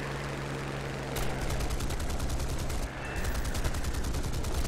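Enemy machine-gun fire in War Thunder, a rapid, even burst of rounds that starts abruptly and continues almost without pause over loud, steady aircraft engine drone.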